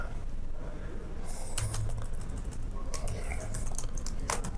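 Someone types on a computer keyboard while entering process-plan data in engineering software, with short bursts of quick, light key clicks over a quiet room hum.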